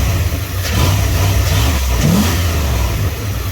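A car engine with a double-barrel air intake idles roughly, then is blipped with a quick rev that rises and falls, loud and close, with no talking.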